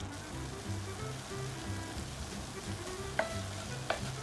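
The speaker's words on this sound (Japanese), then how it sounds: "お醤油入れたらひじきの量にもよるんですけど弱火から中火ぐらいの間で水分が飛ぶまでだいたい5分ぐらいを目安に煎っていきます" Hijiki seaweed with soy sauce dry-roasting in a pan over low to medium heat gives a soft, continuous sizzle with quiet scraping stirs and a couple of light taps, faint and steady with no voices.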